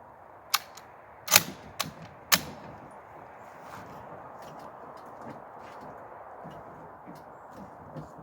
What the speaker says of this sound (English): Let's see if I can hit that plate in the first shot.